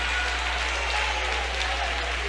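Sustained, dense clapping from a church congregation in worship, an even wash of many hands at steady volume with a low background hum and faint voices.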